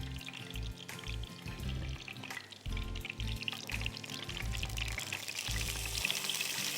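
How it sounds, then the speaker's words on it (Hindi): Eggplant pieces lightly frying in oil for dahi baingan, a soft continuous sizzle with faint crackle, accompanied by intermittent low rhythmic thumping in the background. "बस हल्का सा आपने इसको फ्राई कर देना है।"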